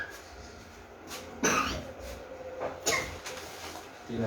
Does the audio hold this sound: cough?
yes